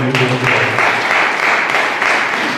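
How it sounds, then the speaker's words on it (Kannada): A church congregation at a Sunday service claps together in steady, dense applause that runs throughout, with a sustained tone fading out early on. "ಸ್ವಲ್ಪ ಚಪ್ಪಾಳೆ ತಟ್ಟೇವೆ."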